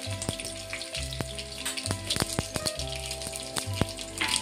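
Mustard seeds, curry leaves and cumin sizzle in hot oil for a Marathi amti, with steady crackling and sharp scattered pops over a low rhythmic hum.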